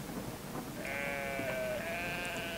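A sheep lets out a drawn-out, wavering bleat that starts partway in and continues to the end, moderately loud over a steady background hiss.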